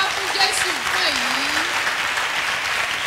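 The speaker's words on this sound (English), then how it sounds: "Clap for Jesus for that." Church congregation clapping at a Sunday service, dense sustained applause filling the room while a voice talks briefly over it.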